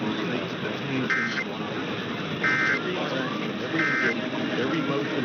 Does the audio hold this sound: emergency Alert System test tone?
yes